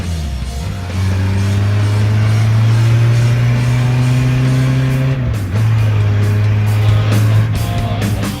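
A Citroën C15 TD diesel car drives with a steady, droning turbodiesel engine note up close, dipping briefly as the driver changes gear before it settles again; no talking over it.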